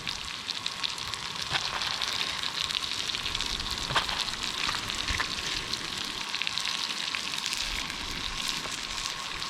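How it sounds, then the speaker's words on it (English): Bacon strips crackle and sizzle on a camp griddle outdoors, a dense, steady hiss with small pops scattered throughout, close and fairly loud. "let's get some bacon on here"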